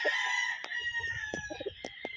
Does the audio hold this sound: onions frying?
no